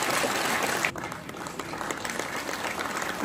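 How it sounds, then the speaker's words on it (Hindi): Audience applause at a government portal launch event at SKICC in Srinagar, a broad steady wash of clapping that dips briefly and then carries on evenly throughout. "आपकी जोरदार तालियों के बीच"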